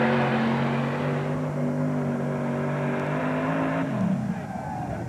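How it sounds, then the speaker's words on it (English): Three-engine super modified tractor in a 2002 Eaton, Ohio pulling event, a loud sustained multi-engine drone with steady tones that drops in pitch and breaks up as the run ends, then rough engine noise continues. "This is a 3-engine tractor class."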